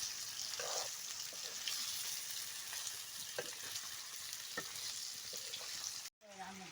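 Meat sizzles steadily in a hot pan, a continuous bright hiss with small crackles and a few stirring scrapes, fairly quiet, cutting off briefly near the end.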